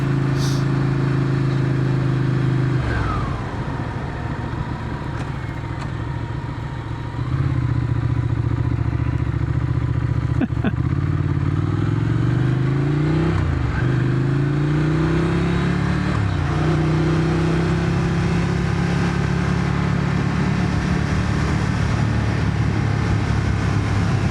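A motorcycle engine drones steadily while riding along a rough, narrow road like a hiking path, its pitch rising and dropping through gear changes and throttle shifts, with occasional clatter and thumps from the bumpy surface.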